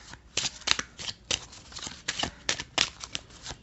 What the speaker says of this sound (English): I'm gonna shuffle this card for guidance